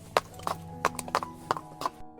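Hooves of a horse and a pony clip-clop at an unhurried walk on a journey, six or seven sharp knocks in an uneven rhythm over a steady low hum, with no voices.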